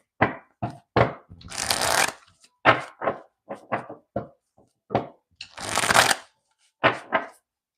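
A deck of tarot cards being shuffled up close, with short crisp riffles and taps broken by two longer, louder riffling bursts, and no talk.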